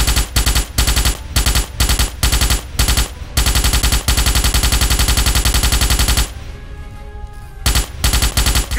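Rapid automatic gunfire blasts at the nerve stems of giant alien bugs in a Starship Troopers video game, coming in loud close bursts broken by short pauses and then a longer sustained stream.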